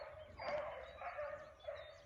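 An eight-month-old beagle hound bays and barks while running a track outdoors, a few sharp calls heard at moderate distance in quick succession with no talk over them.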